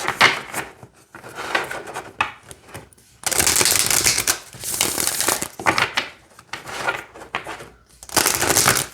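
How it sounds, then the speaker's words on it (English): Lantern Oracle cards are riffled and shuffled in repeated bursts of crisp, papery rattling, separated by short pauses. "So it shuffles really nice. The cards bounce back."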